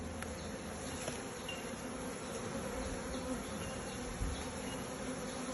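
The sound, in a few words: honey bees buzzing around opened beehive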